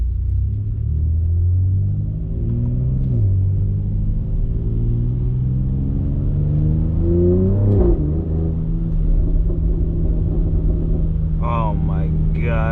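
A BMW X3M with a $4000 aftermarket exhaust idles with a deep, loud rumble, then revs twice, climbing and dropping in pitch, and settles back to a steady drone as a voice briefly starts talking near the end.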